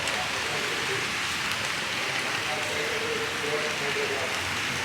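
Steady light rain patters continuously on a surface, an even hiss without breaks.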